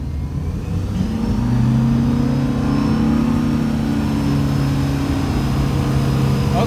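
Inboard wake-boat engines on a Malibu, Nautique or Centurion accelerating during a fuel efficiency run, a loud steady drone with pitch rising then holding, close and constant over water and wind noise.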